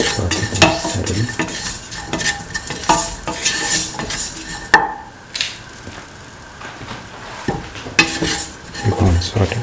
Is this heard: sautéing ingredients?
yes